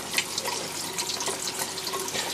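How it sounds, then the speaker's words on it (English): Tap water runs steadily from a faucet during a fish tank water change for an Oscar fish tank, a continuous close splashing hiss with no talk. "the water's running out now at a good temperature"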